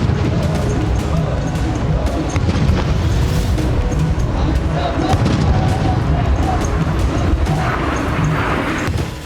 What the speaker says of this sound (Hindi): पुतिन के सम्मान में तोपों की सलामी दी गई।